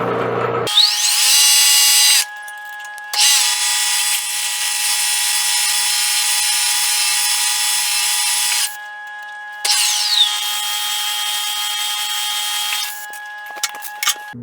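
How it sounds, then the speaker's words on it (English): A 5/16-inch hole is center drilled, undersize drilled and then reamed in metal: a steady, loud, high drill whine running in long stretches, broken by short pauses, with rising pitch as each pass spins up. "we're going to center drill it, we're going to undersize drill it, and then we're going to ream it."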